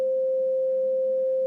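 A steady electronic sine tone at the second harmonic of an E note sounds for about a second and a half, smooth and unchanging before it fades out quickly.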